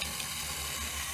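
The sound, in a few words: rinsing microgreen tray with garden hose spray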